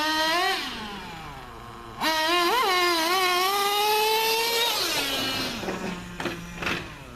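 A Traxxas nitro RC car engine, likely a T-Maxx, screams up through its revs in a parking lot, climbing in pitch, dropping back, then surging again in several loud, close bursts with no talking.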